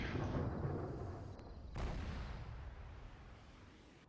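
A cluster artillery strike in the Arma 3 military game: a heavy booming rumble that fades slowly, a sharp crack midway setting off another rolling roar, loud and continuous, with no talk.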